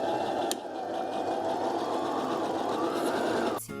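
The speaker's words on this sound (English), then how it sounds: "Now I'm just going to go back on my sewing machine and do the edge stitching" A sewing machine runs steadily as it edge-stitches the pocket of a dress, giving a continuous close whirring with a click near the start and a stop at the end.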